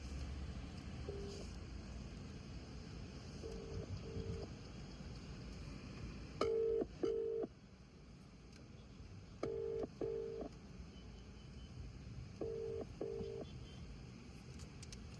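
Telephone call being dialed and left unanswered, heard as a low steady hum with paired ringback tones recurring at regular intervals, moderately loud over a faint noisy background, with no talk.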